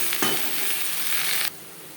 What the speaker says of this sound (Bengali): খুবই হালকা করে ভেজে নেব